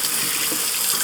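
Water pours steadily over a rechargeable LED work light as its buttons are pressed, a close, even splashing rush with no pauses.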